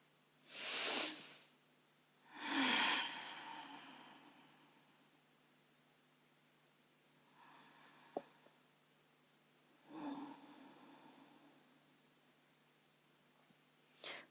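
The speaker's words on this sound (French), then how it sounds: "On va fermer les yeux et on va essayer de faire 3 respirations complètes." Deep, full breaths taken with eyes closed during a lying-down relaxation exercise, heard as three soft airy inhale-exhale swells spaced several seconds apart, quiet and close with no talking.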